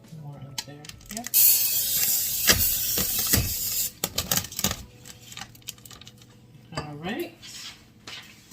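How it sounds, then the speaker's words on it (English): A child sprays cooking spray onto a pan on a stovetop in a short, hissing burst, surrounded by clinks and clatter of cookware while people talk nearby. "Kingston is going to spray the pan"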